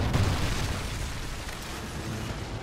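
A Trinity rocket explosion in the online multiplayer shooter Call of Duty: Ghosts, heard as a loud, broad roaring blast that stays steady and then slowly fades across its short length.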